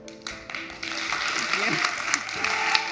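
A crowd claps and cheers for a woman, the noisy applause swelling and holding steady while voices carry over it.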